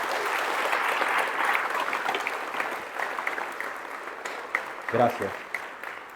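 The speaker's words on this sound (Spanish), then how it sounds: "Dele un aplauso al Señor en esta hora, mi hermano." A congregation at an apologetics conference in Lima claps steadily in a broad, moderately distant wash that slowly tapers off, and someone briefly says a word of thanks near the end.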